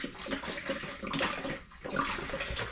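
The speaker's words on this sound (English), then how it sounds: "I'm going to add some more spring water into here" Spring water poured into a raspberry porter home brew, a soft continuous splashing and trickling pour, close and fairly quiet, with a brief lull midway before resuming.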